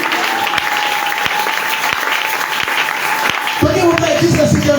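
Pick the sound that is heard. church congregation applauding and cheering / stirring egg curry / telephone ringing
church congregation applauding and cheering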